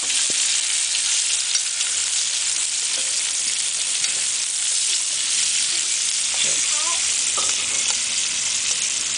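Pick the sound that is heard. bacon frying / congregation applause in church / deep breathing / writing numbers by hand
bacon frying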